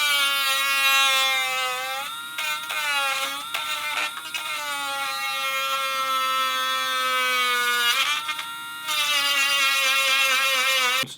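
A battery-powered Dremel rotary tool whines at high pitch while grinding corners during a car head unit install, its tone dipping and recovering under load with brief pauses.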